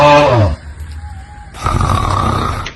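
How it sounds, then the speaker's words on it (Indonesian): A woman snores loudly in a comedic skit, a harsh rasping snore followed by a pause and another drawn-out snoring breath, close and prominent. "Mana ngorok lagi kayak kebo."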